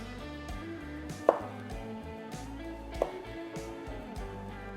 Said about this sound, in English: I'm going to slice up the rest of this salami